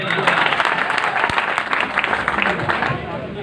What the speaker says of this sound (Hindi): सबसे पहले उन लोगों के लिए तालियां होनी चाहिए